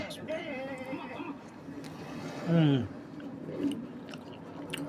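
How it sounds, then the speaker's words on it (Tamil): Arabian mutton kabsa being eaten, with soft chewing and mouth sounds close by over a steady background murmur. Voices speak intermittently throughout. "நம்ம சாப்பிட்டு பார்ப்போம்."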